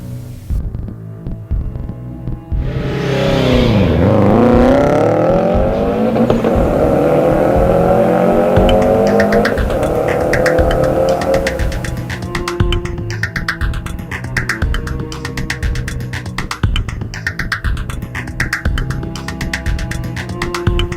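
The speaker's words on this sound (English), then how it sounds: "The Boxer engine really puts out a unique sound" An HKS-modified Subaru Impreza WRX boxer engine revs loudly, its pitch swooping down then climbing steadily in a long sustained pull before settling into a throbbing idle with repeated lighter blips.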